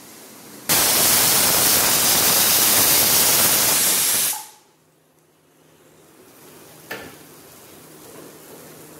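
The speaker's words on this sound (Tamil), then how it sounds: "இப்போ வந்து ப்ரெஷர் வந்து ரிலீஸ் ஆகிற வரைக்கும் வெயிட் பண்ணுவோம்." Pressure cooker holding chicken biryani releasing steam after its whistle, a loud, close, continuous hiss lasting about four seconds that cuts off abruptly, followed by a quiet background and a single faint click.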